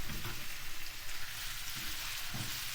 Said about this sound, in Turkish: bundan kavuruyoruz arkadaşlar